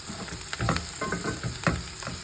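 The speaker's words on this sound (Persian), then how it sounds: "خب هویجم رو میذارم سرخ میشه" Carrots frying with onions in a pan, giving a steady close sizzle with a few soft stirring scrapes and crackles, alone without talk.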